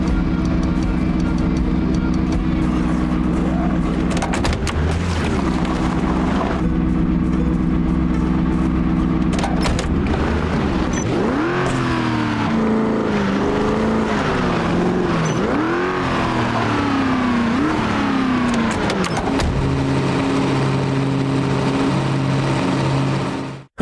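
A car engine in Project Zomboid drones steadily, then revs up and down with rising and falling pitch as it accelerates and shifts, loud and close throughout with no talk.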